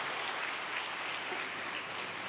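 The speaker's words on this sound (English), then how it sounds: "So just give them a hand of applause for that." An audience applauds at a hydrogen refuelling station demonstration in South Africa, steady clapping from a crowd heard at some distance, fairly quiet and even throughout.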